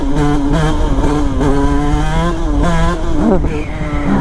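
A 2Fast 100 two-stroke engine revs loudly and up close, its buzzing pitch rising and falling through several blips before dropping off near the end.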